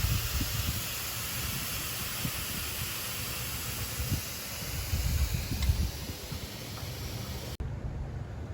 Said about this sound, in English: just cover the vent with a towel and then release the steam